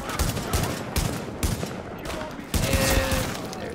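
Loud, repeated gunshots fire in quick bursts in The Division, a looter-shooter video game, each crack sharp and near, with short pauses between volleys.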